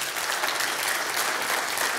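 A church congregation claps loudly and steadily in a thick, continuous wash of applause lasting a couple of seconds.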